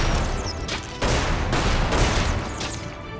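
Space marine guns fire in rapid, loud, sustained bursts in Magicka, with short breaks between the volleys over a few seconds.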